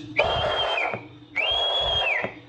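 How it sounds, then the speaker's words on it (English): CB radio keyed to maximum carrier with a whistled 1K test tone: two sustained, steady whistle bursts of about a second each, loud and close, separated by a short gap. "Now we have something called max carrier, which is going to be our whistle."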